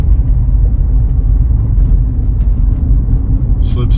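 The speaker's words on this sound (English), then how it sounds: "And yes, we're driving down the road." A Tesla Model Y rolls slowly down a road on a flat tire, giving a loud, steady low rumble of tire and road noise without a break.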